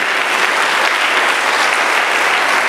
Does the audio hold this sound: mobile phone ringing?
no